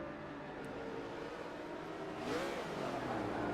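An S class car engine in Forza Motorsport 6 accelerates, a faint steady engine drone that rises in pitch and gets a little louder toward the end, heard alone.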